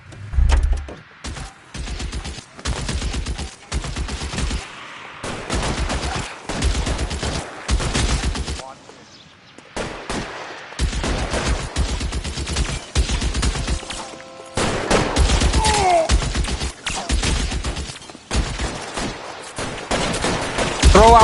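A shootout in the video game L.A. Noire, with loud, close volleys of gunfire in rapid bursts, short lulls, and some crashing impacts, and voices calling out between shots.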